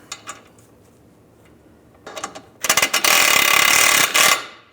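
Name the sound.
ratchet tightening a control arm bolt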